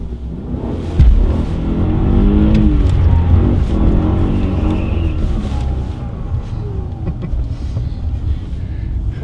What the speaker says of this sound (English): So it still does burnouts and donuts with the new coilovers.